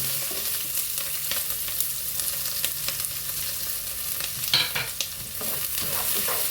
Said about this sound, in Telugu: ఇప్పుడు ఉల్లిపాయలు వేస్తాను